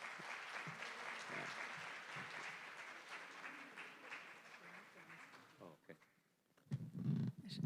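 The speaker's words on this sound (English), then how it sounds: "And please give them a big round of applause." Steady audience applause after a Carnatic percussion performance, dense and sustained for several seconds before stopping abruptly, with murmuring voices afterward.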